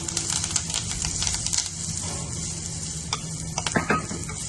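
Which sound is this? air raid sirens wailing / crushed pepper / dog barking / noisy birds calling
crushed pepper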